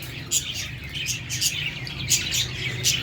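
Chicks and baby parrots kept together indoors chirping, repeated high tweets in uneven bursts about every half second over a low background hum, close by with no talk.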